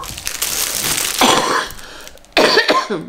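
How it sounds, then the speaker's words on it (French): Two bouts of coughing, close and fairly loud, the second a burst of harsh coughs after a short pause; no talking. "Ah, je tousse encore."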